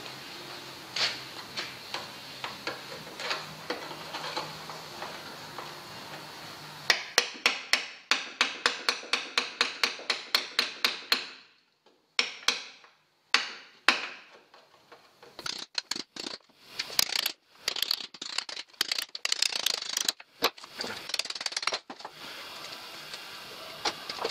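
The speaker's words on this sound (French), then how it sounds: "on démonte le bout d'aile, donc délicatement avec un petit burin et un petit marteau" Rapid metallic taps from a small hammer striking a chisel ring out against the sheet metal of an MGB GT wing, first in quick regular bursts, then in scattered sharper blows separated by pauses.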